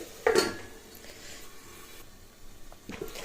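A metal lid clanks onto a pan of simmering tomato egg curry, one sharp bright clink near the start followed by quiet kitchen rustle and a faint knock at the end.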